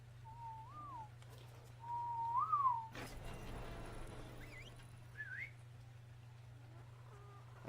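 A person whistles a few short melodic phrases in a quiet room, soft and close, with pauses between and a steady low electrical hum underneath.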